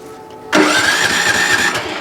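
A Motor Sich MB-16E walk-behind tractor engine starts abruptly after a brief quiet moment, catching immediately and settling into a loud, steady, close-up idle with a rapid rhythmic chug.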